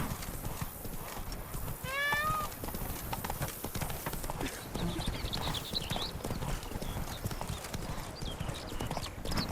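Horse hooves clip-clop steadily at a trotting pace in the Witcher 3 Blood and Wine game world, with a brief whinny early on and a rider's voice talking over the hoofbeats.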